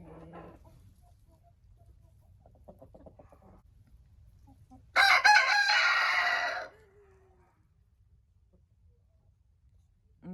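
An old rooster lets out one loud, drawn-out crow lasting under two seconds, clear and close against a quiet outdoor background with faint soft sounds before it.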